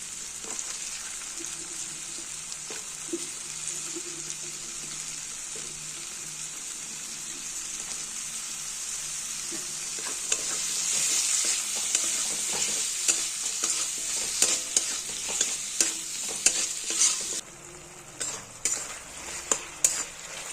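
Capsicum stirred into tomato and oil sizzles in a pan, a steady frying hiss that swells after about ten seconds, punctuated by repeated scraping clicks of the spatula against the pan.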